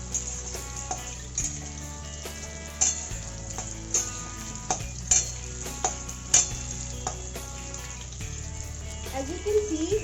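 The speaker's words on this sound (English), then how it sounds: "Fry the potatoes till it becomes golden brown." Potatoes frying in oil in a pan for a Bengali-style aloo chicken, a steady close sizzle with scattered clinks and stirring knocks, and a low hum running underneath throughout.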